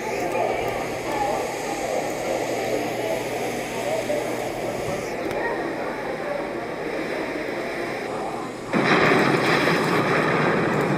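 Explosion sound effect in an animated train episode set in a nuclear disaster scenario, a sudden loud broadband burst near the end rising over a steady rumbling background with talk throughout.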